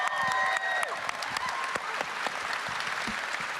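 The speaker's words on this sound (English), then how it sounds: "Give them all a big round of applause" Audience applause at a Star Wars Zero Company game panel, a dense burst of many hands clapping at once, fairly close, with a brief tonal sound at the start that fades as the clapping continues.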